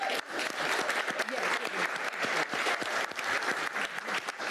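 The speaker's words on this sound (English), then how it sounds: "Let's give them a round of applause." Dense applause fills a room at a commission meeting honoring a state championship team, steady clapping with irregular peaks running throughout.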